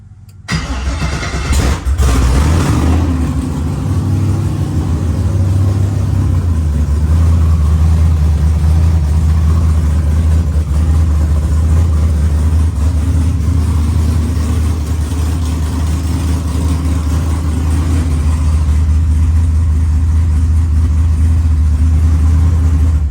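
A Pontiac Trans Am engine cranks and catches with a loud burst, then settles into a deep, heavy, rumbling idle that holds steady and close for about twenty seconds.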